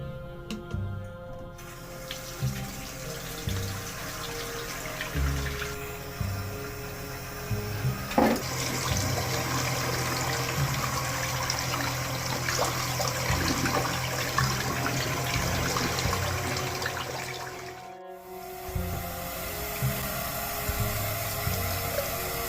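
A bathroom sink tap runs continuously while a face is rinsed, with splashing water and low clunks over a steady flow that briefly cuts out near the end before resuming.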